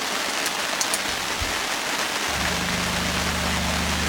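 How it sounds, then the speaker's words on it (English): Steady rain pours down outdoors at a mountain camp, a dense, even hiss, with a low engine-like hum joining partway through. "get him out of that rain"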